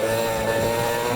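A vintage go-kart engine revs high and holds a steady, loud, buzzing drone close by, with no gaps.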